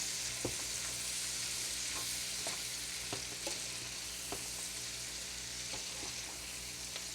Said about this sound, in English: you want to kind of mix that cabbage up and kind of get it mixed in with the grease that was already in there